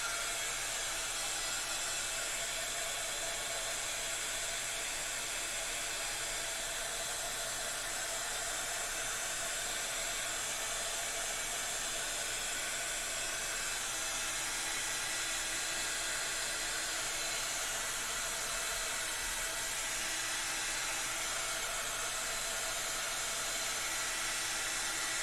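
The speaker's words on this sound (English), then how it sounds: "Let's hit that with the heat gun." A heat gun blows steadily while drying paint, a loud continuous rushing hiss held close without a break, no talking over it.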